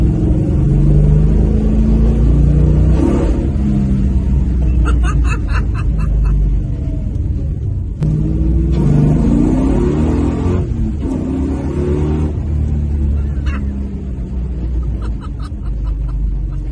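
Dodge Coronet engine rumbling steadily throughout a ride, loud and close with a continuous low drone, brief swells as it revs, and a few voices laughing faintly underneath.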